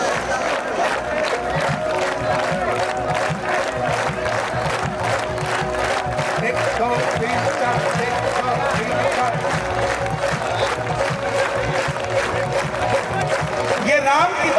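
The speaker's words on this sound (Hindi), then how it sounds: "ताली सुन लो।" An audience claps steadily in rhythm at a live Shyam bhajan jagran, with crowd voices and singing carrying over the loud, even beat of the hands.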